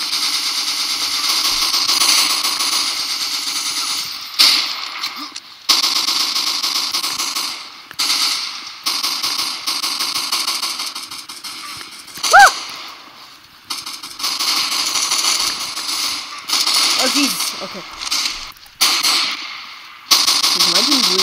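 Machine gun fire in the Combat Reloaded video game comes as dense rapid bursts, broken by short gaps and single sharp reports, with voices talking over parts of it.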